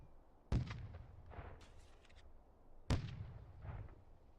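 Tank cannon shelling in the Steel Beasts Pro combat simulator, two sharp booming shots about two seconds apart, each followed by a rolling rumble, heard at moderate distance and fairly faint.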